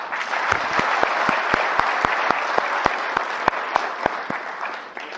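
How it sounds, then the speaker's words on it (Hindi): A seated audience claps together at the close of a training session on Aadhaar e-KYC registration, dense steady applause with a few sharp accented claps, loud and near, with no talk over it. "एक बार आप लोग अपने लिए ताली कर लो।"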